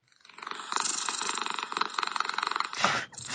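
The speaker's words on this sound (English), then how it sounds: "This is a cat purring, but yeah, it sounds like the Predator." A cat purring from a phone's white noise generator app, a steady rhythmic rumbling purr that swells and pulses with breaths, played loud and close with a brief break near the end.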